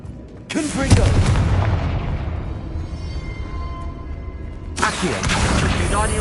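A Confringo spell in Hogwarts Legacy detonates with a loud booming blast that rumbles and slowly fades, then a second explosion bursts near the end.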